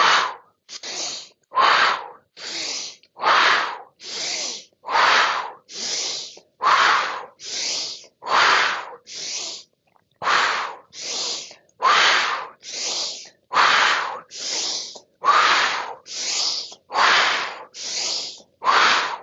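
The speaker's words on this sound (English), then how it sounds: "Inhale." Deep rhythmic breathing during a breathwork exercise, with around twenty strong, close breaths in and out in a steady cycle and no talking.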